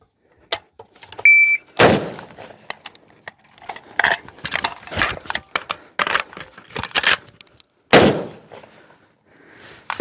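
Ruger Mini-14 rifle firing during a timed drill: several loud, sharp shots spread unevenly across the stretch, with clicks and metallic handling noise from a fumbled magazine reload between them, and no talking.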